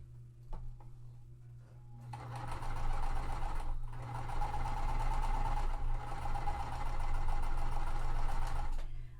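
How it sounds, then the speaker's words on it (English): A sewing machine chain-stitches cotton quilt pieces together in one long, steady run of rapid needle clatter, close and even, after a few faint clicks at the start. "I am going to chain stitch them all together"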